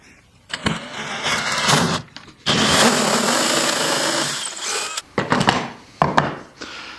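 Hole saw with a pilot bit boring through wood, a loud grinding whir that runs in two long bursts separated by a brief stop, then tails into short choppy cuts, close up with no talk.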